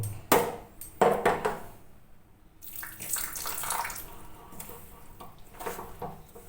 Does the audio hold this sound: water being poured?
yes